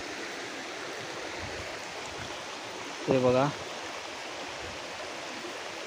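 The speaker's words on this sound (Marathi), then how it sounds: "हे बघा इकडे फुल पाणी" A forest stream in the Konkan countryside near bamboo groves flows steadily, a soft continuous rush of water running throughout, with someone speaking briefly over it midway.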